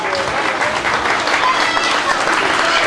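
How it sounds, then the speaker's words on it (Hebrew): A show audience applauds Lucy the parrot with loud, dense, sustained clapping from a large crowd for about three seconds. "בהחלט מגיע ללוסי מחיאות כפיים."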